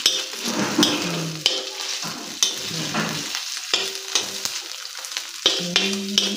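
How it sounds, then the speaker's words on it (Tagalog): Pork sizzling and frying in its own rendered fat for pinakbet, with a steady crackling hiss and repeated scraping stirs of a spatula in the pan, close and fairly loud, no talking. "Atin lang patatagalin pa ng kaunti habang mag-brown ang taba."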